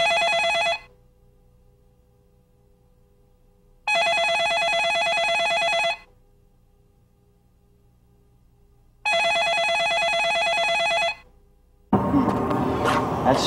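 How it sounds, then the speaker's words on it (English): A telephone rings three times in long, evenly spaced bursts with silence between, left unanswered, before other sound cuts in at the end. "isn't answering the phone"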